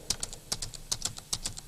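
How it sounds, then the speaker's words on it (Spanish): Quick, light taps on a computer keyboard as music notes are typed into Sibelius notation software, arriving in an uneven, rapid rhythm of close, crisp clicks with no other sound. "Puedo poner las notas en la partitura virtual, tecleándolas aquí"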